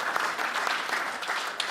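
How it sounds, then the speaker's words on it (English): Steady applause from an audience at a volleyball Champions League drawing of lots, thanking an assistant; dense, even clapping fills the whole stretch without speech. "Please, a hand clap for Victoria for her assistance."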